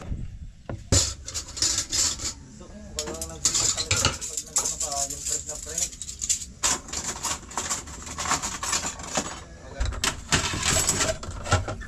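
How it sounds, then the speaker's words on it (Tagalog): Dishes being washed in a home kitchen, with plates and cutlery clinking and knocking in repeated bursts over running noise, close and fairly loud; a voice is briefly heard partway through. "Natapos na rin ako sa paghuhugas ng pinggan."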